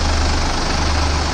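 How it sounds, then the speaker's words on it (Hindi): Sonalika tractor engine held at about 1000 RPM in fourth low gear, a steady, loud, low diesel rumble that runs unbroken throughout with no voices. "अब की बार दोनों ट्रैक्टरों को चौथे के लो में चलाया जाएगा"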